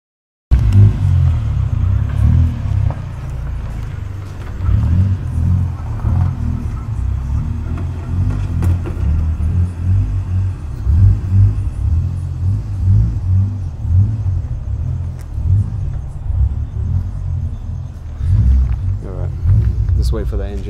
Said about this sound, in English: Just wait for the engine to shut off.